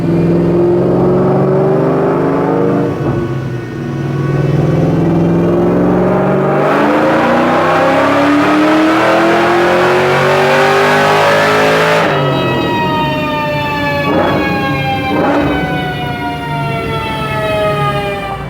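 Supercharged Ford Cobra engine running on a dyno, a loud sustained roar with a whining supercharger tone that rises and falls as the revs sweep up and settle, close and unbroken by speech.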